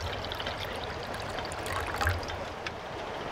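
Water pours and trickles steadily into a pot over a wood-burning stove at a woodland hammock camp, a close continuous splashing stream without any speech.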